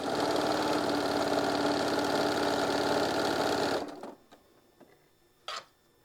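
A sewing machine stitches quilt pieces in a fast, steady mechanical whir for about four seconds, then stops abruptly, leaving faint handling clicks and a brief rustle.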